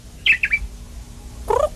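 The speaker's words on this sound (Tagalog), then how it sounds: "ano bang sinasabi ng ibon na yan sa'yo?" A robin chirps in a quick run of bright, high notes, then falls silent before a second, lower burst of chirping, close and clear in a quiet setting.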